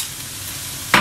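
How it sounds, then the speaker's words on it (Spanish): Rice going into a hot wok for chao fan fried rice, a steady sizzling fry with stirring scrapes, ending in a sudden louder hiss as it hits the pan. "ahora voy a echar el arroz"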